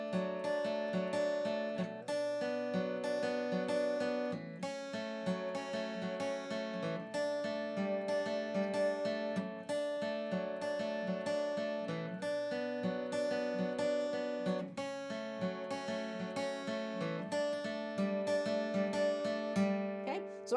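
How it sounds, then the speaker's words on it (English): An acoustic guitar picks the treble notes of a song's intro in a steady, repeating melodic pattern, played close and clean without talk. "I'm just going to be playing the treble notes."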